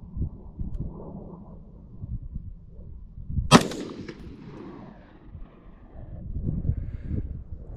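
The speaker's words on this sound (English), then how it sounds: "All right, first shot with the carbine." A single sharp gunshot from an AR-15 carbine firing 55 grain Winchester ammunition cracks loudly outdoors, ringing briefly after the shot, surrounded by faint wind and low rumble.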